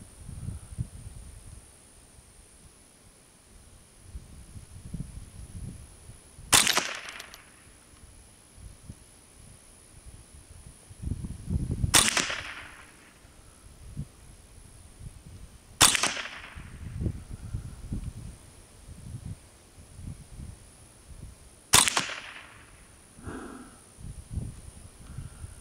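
A Savage A22 heavy fluted-barrel rifle firing Remington target 40 grain solid-point rounds outdoors: four sharp, loud cracks spaced several seconds apart, each with a short trailing echo over a low background rumble.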